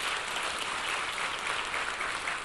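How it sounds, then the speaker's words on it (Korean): A church congregation claps steadily to welcome new staff. The applause is dense and continuous, with no talk over it. "우리 박수로 환영하겠습니다."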